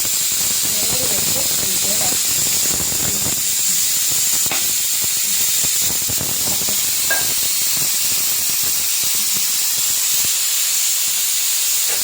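Fish curry made with kingfish (neymeen) and raw mango bubbles at a rolling boil, giving a steady close hiss of steam throughout with faint scattered bubbling pops.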